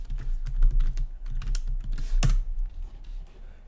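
Someone types a server password on a computer keyboard, close and clear. A quick uneven run of key clicks and taps ends in one sharper keystroke, then fades to light taps. No one speaks.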